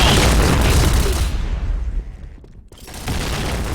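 Gunfire in a video game, dense booming shots that fire continuously and heavily, thin briefly to a pause, then resume close and loud.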